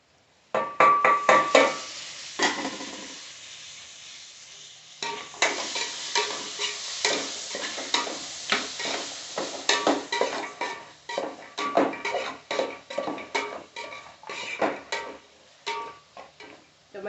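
Tomatoes sizzle in a hot pan with a pinch of turmeric for vegetable dum biryani, under steady rhythmic stirring and scraping of a spoon against the pan, after a brief pause.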